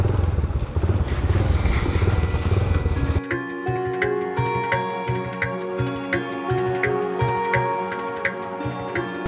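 A motorbike ride over a bad mountain road between Naran and Kagan: a loud, rough rush of wind and engine gives way to a steady engine drone with regular rattling knocks and clatter from the bumpy track, no speech.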